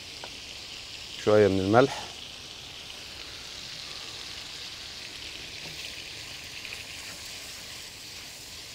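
Onions sautéing in a pan for a rice and shrimp dish, giving a continuous soft sizzling hiss that runs the whole time with faint stirring clicks, while a voice speaks briefly near the start.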